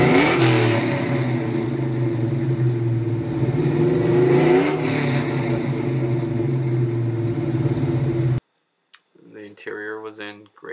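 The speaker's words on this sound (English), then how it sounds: "here's a little video clip of the car revving up with the Flowmasters" A 2003 supercharged Mustang GT with Flowmaster exhaust revs loud and close, its rumbling engine surging and falling steadily for about eight seconds before cutting off, after which a voice speaks briefly.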